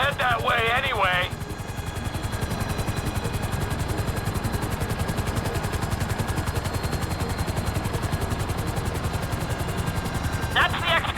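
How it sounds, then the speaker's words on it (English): A helicopter hovers in the GTA 5 video game, a steady, loud, throbbing rotor rumble that runs throughout, with brief talk at the start and end. "I need you to hold the chopper above it while I take a look."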